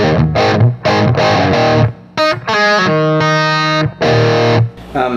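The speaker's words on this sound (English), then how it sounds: "I have the bridge pickup all the way up, humbucking with the tone back a little bit" Electric guitar on the bridge humbucker with the tone knob rolled back a little, a fat, distorted rock tone playing loud chords and short riffs with brief gaps, alone and close.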